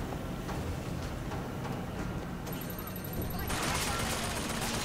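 Enemy gunfire in the first-person shooter Bioshock Infinite, a steady dense crackle of shots filling the scene with a brighter burst of firing near the end, while a player speaks over it.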